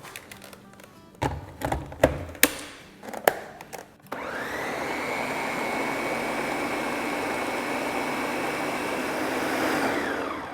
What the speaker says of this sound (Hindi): इसको ब्लेंड करेंगे